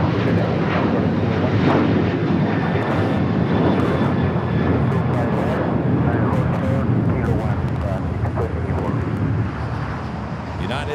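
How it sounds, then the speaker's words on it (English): An Alaska Airlines Boeing 737-900ER jet rolls for takeoff on the south side of LAX, bound for Spokane, making a sustained, loud engine roar that eases slightly toward the end. "Next takeoff here on the south side is a flight heading to Spokane, Washington."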